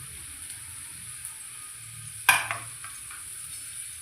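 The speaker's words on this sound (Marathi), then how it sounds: "हा फोडणीला टाकते मी कांदा" Ground onion paste dropped into hot oil for tempering, one sudden loud splash and crackle that settles into a low, steady sizzle with faint stirring.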